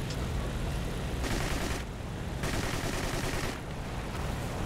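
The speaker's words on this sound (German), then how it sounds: "Das MG klingt aber voll geil." Machine gun firing in War Thunder from a Japanese Ho-Ni tank, a dense continuous rattle of rapid shots over engine rumble, with bursts swelling louder in regular surges and nobody talking.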